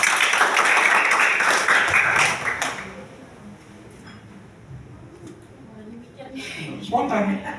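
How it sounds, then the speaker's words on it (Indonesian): Audience at a hotel gathering in Manado claps together in a dense burst for about three seconds, then fades to a quieter room with scattered sounds and a brief swell near the end. "Tepuk tangan dulu biar semangat."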